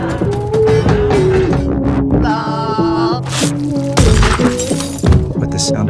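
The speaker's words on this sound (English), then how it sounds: "With the sound of glass breaking, everything suddenly went silent." Glass shatters in a sharp, loud burst over dramatic film music, with a second crash close behind, then the music carries on.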